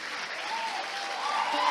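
A church congregation applauding during a service, a steady wash of clapping from a crowd that swells slightly toward the end, with faint voices mixed in.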